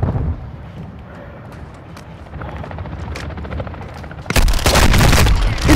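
Gunfire rings out in the Call of Duty DMZ video game: scattered shots and a low rumble give way to a loud, dense burst of rapid fire near the end.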